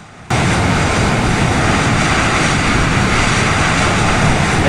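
Boeing 737 MAX jet engines spooling into reverse thrust in Microsoft Flight Simulator, a sudden loud, dense roar that kicks in after a brief quiet moment and holds steady and close.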